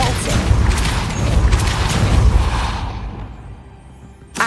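A Depulso spell cast in the Hogwarts Legacy video game lands as a loud, booming magical burst with a whooshing rush that rumbles for a few seconds, then fades out before a short sharp crack at the end.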